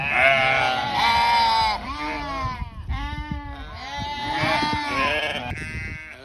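A flock of sheep and lambs bleating loudly and continuously after shearing, several overlapping calls at once, close by with no pauses.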